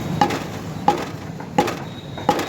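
Knife or cleaver chopping fresh mutton at a butcher stall, four evenly spaced sharp chops over a steady background hum, close and fairly loud, no talk.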